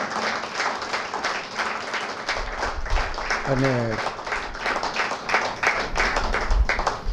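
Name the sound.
audience applause for the speakers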